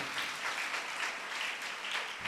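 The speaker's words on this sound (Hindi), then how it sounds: "भाई सरवर, बाबू सैमुअल के लिए, और इनके जो जितने भी साथी हैं उनके लिए भी भरपूर तालियां होनी चाहिए" A church congregation applauds during a Christmas night Mass at St. Clare Parish in Lahore, a dense, steady burst of many hands clapping together for a couple of seconds.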